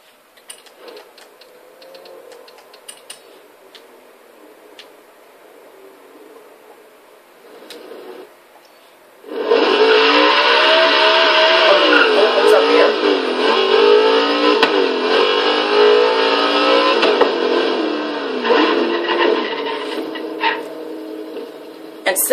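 A 1969 Lola T70 MkIIIB race car engine in Forza Horizon 3 drones quietly at first, then bursts into a loud, sustained high-revving roar with shifting pitch for the rest of the stretch.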